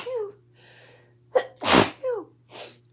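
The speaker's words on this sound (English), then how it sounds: "Sorry, I'm gonna sneeze." A person sneezes once, close and loud, after a few quick catching breaths and short vocal sounds. A soft sniffly exhale follows, over a faint steady electrical hum.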